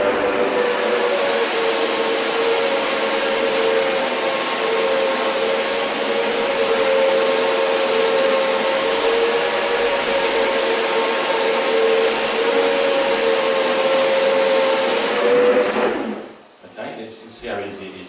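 A Duplex 340 steam floor scrubbing machine runs with a steady, loud whirring drone and high hiss, continuing evenly before winding down near the end.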